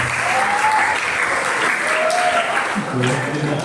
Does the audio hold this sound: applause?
yes